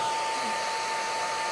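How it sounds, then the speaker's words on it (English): A hair dryer runs steadily and loudly throughout, a constant close whooshing blast with a faint whine, no talk over it. "They're not gonna be able to hear anything while I got the dryer gone."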